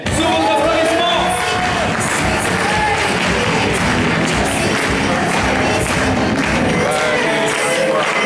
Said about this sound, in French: Sous votre applaudissement.